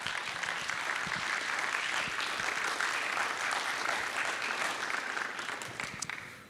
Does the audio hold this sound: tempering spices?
no